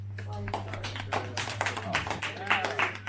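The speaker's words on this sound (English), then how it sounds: "Let's give yourselves a round of applause for coming in closer." A small group at a karaoke performance claps briefly and unevenly, scattered hand claps mixed with voices and a steady low hum in the room.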